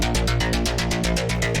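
Synth bass run through a phaser and Camel Crusher distortion on a subtle setting, a thick, throbbing pulsing riff with steady rhythmic notes, loud and with no voices.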